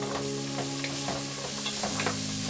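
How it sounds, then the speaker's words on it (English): Onions browning in a pan with garlic and carrots added, giving a steady close sizzle under a low background hum, with intermittent soft scraping from stirring. "Saute the onions until it starts to turn brown, and then add the garlic and the carrots"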